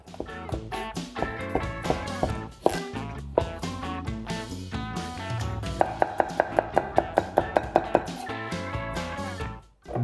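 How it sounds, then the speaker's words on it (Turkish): Rapid, steady knife chops on a cutting board, crisp repeated strikes slicing through cucumber, close and distinct over soft background music. "salatalıklarınızı isterseniz düz şekilde ufak ufak ya da benim gibi hafif verevine uzun parçalar halinde doğrayabilirsiniz"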